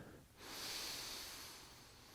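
A long, deep inhale through the nose during a yoga spine-arching pose, a close, airy hissing breath that swells and holds for about a second and a half, heard alone and quiet.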